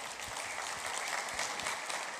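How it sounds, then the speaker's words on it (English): A church congregation applauds during a Sunday service, dense even clapping throughout with no voices over it. "you can give him a round of applause for that."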